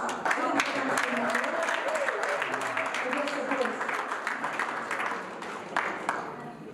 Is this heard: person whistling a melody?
no